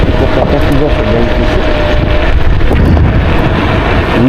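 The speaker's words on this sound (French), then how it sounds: "je ressens beaucoup de vent" Heavy wind roars across the microphone in a loud, constant rush while riding a Kaabo Wolf King GT electric scooter outdoors, with a low rumbling undertone throughout.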